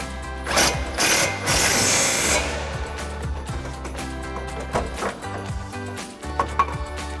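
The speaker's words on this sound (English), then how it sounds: "we'll bring back our 15mm socket and tighten that back down" An impact wrench with a 15mm socket tightens a strut bolt on a 2005-2009 Mustang GT front strut assembly, giving one loud mechanical burst of about two seconds, then scattered clicks and metal clanks close by.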